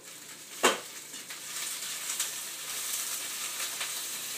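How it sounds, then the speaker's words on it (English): Vegetables sautéing in a frying pan for homemade fajitas, a steady soft sizzle at moderate distance with one sharp clink of a pan or utensil near the start. "Sounds like vegetables are sauteing in the pan."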